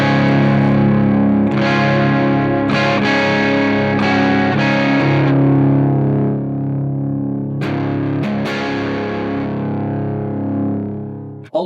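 Distorted electric guitar played through an Electronic Audio Experiments Citadel pedal with normal and bright gain turned up, sustained saturated chords ringing out in bursts, loud and close, with a few sharp pick attacks and no talking.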